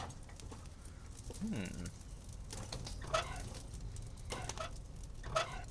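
Bird cooing in the video game Chaos on Deponia: a few short pigeon-like coos among quiet ambient game noise and faint patter, moderately near and not loud.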